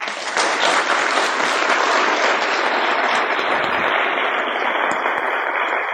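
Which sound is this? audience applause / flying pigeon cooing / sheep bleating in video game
audience applause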